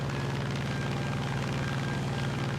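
P-47M Thunderbolt fighter plane in the War Thunder game. A steady, loud radial engine drone holds a throbbing low pulse and never breaks, and no voices are heard.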